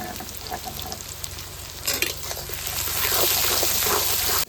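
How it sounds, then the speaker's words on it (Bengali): Chopped onion sizzles steadily in hot oil, salted, for a chicken kosha, with a loud continuous hiss that builds in the second half and occasional stirring scrapes. "এবার কুচানো পেঁয়াজ দিয়ে দেবো"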